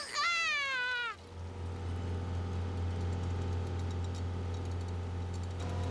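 In a cartoon, a sailboat's motor drones as it leaves the marina, a steady low hum that runs on after a short rising cartoon squeal at the start.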